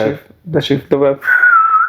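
After a stretch of conversational speech, a person imitates a whistle with a sustained, steady whistled tone lasting under a second, close and fairly loud.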